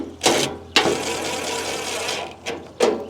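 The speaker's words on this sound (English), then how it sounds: "putting the small screw in first, which is a little tough with this drill" A power drill drives small screws into metal corner brackets while a hardtop patio gazebo is assembled, giving short whirring bursts and one longer steady run, close and moderately loud with no talk.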